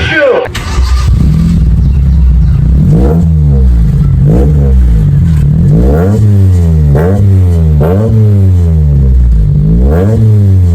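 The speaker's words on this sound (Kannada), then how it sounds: "ಈ ಗಾಡಿ ಎಕ್ಸಾಸ್ಟ್ ಸೌಂಡ್ ನೋಡ್ಬೇಕಲ್ವಾ?" A 23-year-old Honda City car's exhaust, revved repeatedly from idle in a residential area: loud, close engine with rising and falling throttle blips in a steady rhythm, no talk.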